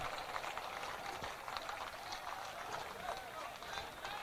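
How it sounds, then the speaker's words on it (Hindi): A crowd at a Bihar political gathering for Prashant Kishore claps steadily, a dense, even wash of applause filling the space without pause. "मैं एक बार चाहूंगा कि सब लोग ताली बजाकर स्वागत कीजिए"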